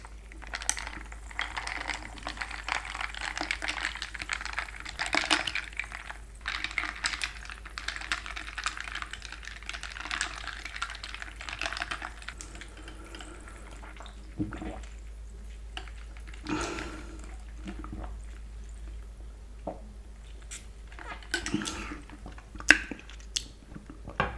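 Close-up ASMR eating of a wagyu burger, with soft, wet chewing and squishy bites recurring in irregular bursts, close to the microphone and without talk.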